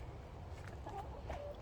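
Backyard chickens turning over compost cluck softly nearby in a short, faint burst of a few low calls.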